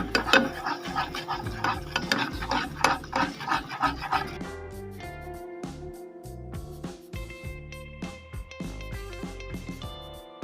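Popcorn is stirred with butter and caramel in a pot: dense, gritty rasping and scraping strokes, loud and rhythmic at first, then lighter, scattered scrapes and clinks. No one speaks.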